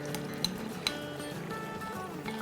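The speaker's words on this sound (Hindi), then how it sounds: "लहसुन के साथ भुनाई करते हैं।" Goat meat sizzles with garlic in an Instant Pot, a soft steady frying hiss broken by a couple of sharp metallic clinks of a spoon against the pot.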